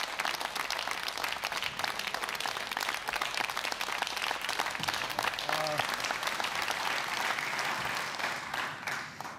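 Sustained studio audience applause on a Serbian late-night talk show, a dense even roar of many hands clapping throughout, with a brief murmur of voices mixed in near the middle.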